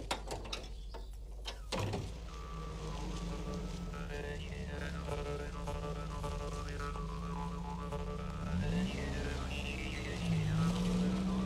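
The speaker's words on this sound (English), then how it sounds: "John and Kathleen Murphy welcome Andy's van on a spring day." Travelling shop van in rural Clare, Ireland, pulling up to a thatched cottage in 1982, its engine droning steadily and rising slightly, loud and close, after some knocks and clatter at the start.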